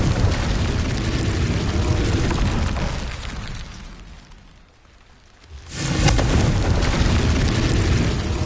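Loud, dense fire-spell blasts from Hogwarts Legacy fill the scene, a broadband roar that drops away briefly in the middle before a second explosion surges back in and holds.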